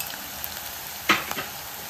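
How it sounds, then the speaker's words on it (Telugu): Onions, green chillies and curry leaves fry in oil with turmeric for a mutton curry. A soft, steady sizzle is heard close up, with one brief louder hiss-and-stir burst midway. "ఉల్లిపాయలు పచ్చిమిరకాయలు ఫ్రై అవుతున్నాయిగా."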